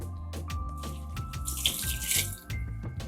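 Water running from a kitchen tap into a cup to measure it for tomato biryani, a close, steady stream with splashy bursts and a brief pause near the end.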